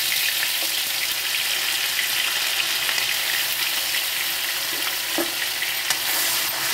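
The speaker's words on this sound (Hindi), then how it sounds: "लहसुन अदरक का पेस्ट डालेंगे।" Garlic-ginger paste fries in hot oil in a kadai with cloves, black pepper and cumin, giving a continuous close crackling sizzle with occasional stirring scrapes and no speech.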